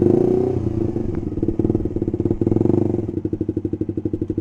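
A motorcycle engine idles and throttles down beside the road as the rider pulls into a parking spot, its exhaust pulsing steadily and close by, loud throughout with a faint clatter partway through.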